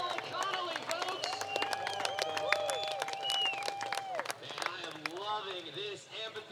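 A crowd in an amphitheatre claps and cheers for the elite dual slalom mountain bike winner at the Sea Otter Classic, with scattered applause beneath an announcer's voice.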